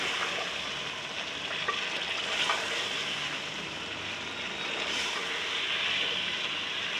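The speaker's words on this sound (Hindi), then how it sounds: "2 से 3 मिनट हम अच्छे से चिकन को मसाले के साथ भूनेंगे।" Chicken pieces fry with masala in a hot pan while being stirred, a steady close sizzle filling the whole stretch with scraping stir noises.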